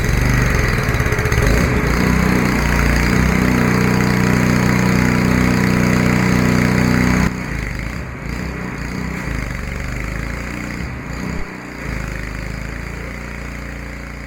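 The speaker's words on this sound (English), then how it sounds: "One other thing I'm going to add about using the power washer, very dangerous tool." A power washer runs close by on a garage floor with a loud, steady engine drone and spray hiss that drops in level partway through, then continues steadily at a lower pitch.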